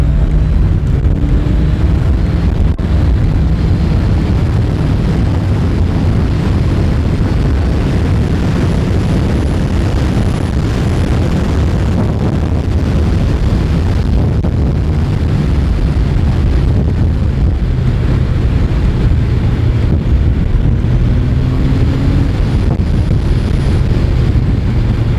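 A Kawasaki Z1000SX motorcycle revved hard on the road, its engine a steady loud roar mixed with heavy wind rush over the microphone, continuous for the whole stretch with no talk.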